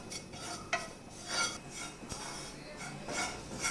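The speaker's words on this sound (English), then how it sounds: "Saute it nicely till the raw smell goes." Masala with turmeric powder is sautéed in a pan: quiet, repeated spoon strokes scrape and swish against the metal over a faint background sizzle.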